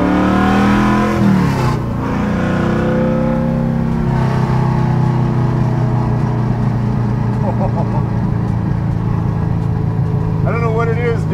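A 750 hp big-block Mercury Cougar muscle car engine revs and holds a loud, raw, continuous rumble, with pitch rising and settling, as people talk over it.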